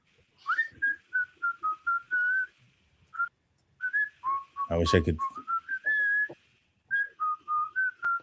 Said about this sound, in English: Oh, that's really loud whistle.